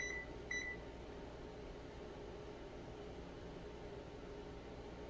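Two short electronic beeps from a home oven's control panel as it is set to 400 degrees, then a faint steady hum of appliance and room noise.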